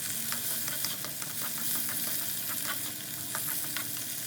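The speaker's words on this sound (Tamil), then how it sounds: "தக்காளி சேர்த்து இந்த தக்காளி நல்லா வதங்குற அளவுக்கு இதை வதக்கி விடுங்க" Tomatoes sautéing in a pan for crab masala, a dense steady sizzle with frequent small crackles and stirring scrapes throughout, close and even in loudness, no voices.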